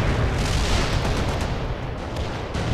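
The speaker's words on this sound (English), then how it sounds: "Artillery firing." Artillery firing in the war video game World in Conflict: a continuous heavy rumble of booms and blasts, loud and dense throughout, with no clear gaps between shots.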